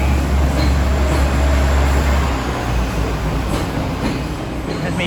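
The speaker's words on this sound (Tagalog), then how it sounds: "There's a real train passing by." A real train rumbles past, loud and close, with a heavy low-end roar that eases slightly partway through and a steady wash of rolling wheel and carriage noise throughout.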